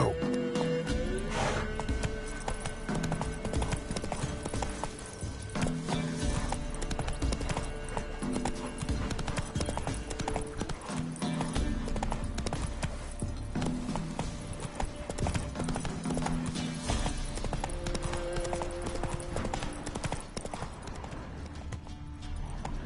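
A horse gallops in The Witcher 3, with steady rhythmic clip-clop hoofbeats running throughout. A short whinny and some game music or ambience sound underneath, and a brief spoken command occurs.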